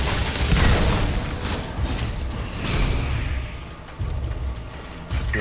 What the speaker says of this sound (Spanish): La explosión.